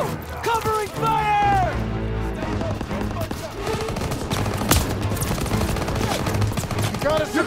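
Suppressive gunfire in Call of Duty: WWII during the Hill 493 and Battle of the Bulge fighting: dense, continuous rapid shots and crackling bursts carry on throughout, loud and close, mixed with shouted voices.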